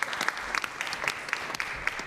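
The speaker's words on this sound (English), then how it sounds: "Let's give them a round of applause." Closing applause for a conference panel on justice and health, fairly faint with individual claps audible as scattered sharp snaps over a soft bed of clapping.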